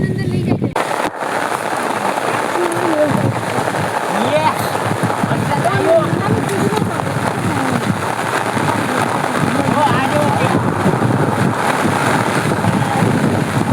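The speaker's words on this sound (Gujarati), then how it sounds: "જો વરસાદ આવ્યો" Steady heavy rain pours on an open field near Jamnagar, Gujarat, a dense continuous hiss from start to finish, with gusts of wind buffeting close to the microphone.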